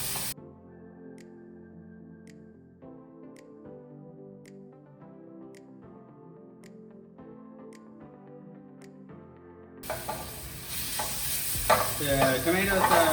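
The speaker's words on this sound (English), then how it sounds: "Let it cook down a little bit till the tomatoes are really soft and there's some liquid coming out of them." Tomatoes cook down in a pan, a soft sizzle and bubbling that rises in the last few seconds after a stretch of quiet background music.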